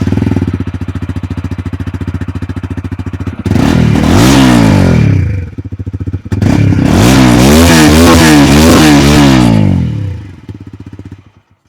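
A TVS Apache 160 motorcycle's exhaust sounds at steady idle, then two strong rev bursts rise and fall, the second longer with repeated throttle blips, loud and close with no talk.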